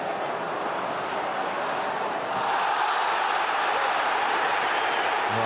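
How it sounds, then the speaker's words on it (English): A large football crowd roars at a Manchester United versus Arsenal Premier League match in 2003. The noise is a steady, dense stadium din that holds its level for the whole stretch and swells a little near the middle. "the crowd now are very much roaring for the referee to give Ronaldo a bit more protection"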